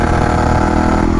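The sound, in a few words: Yamaha YZF 450 supermotard motorcycle engine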